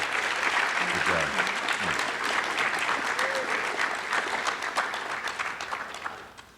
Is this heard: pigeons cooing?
no